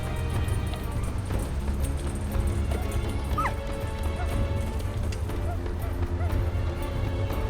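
A team of sled huskies in Greenland barks and yips in scattered bursts over a steady low rumble, with a few whimpers mixed in.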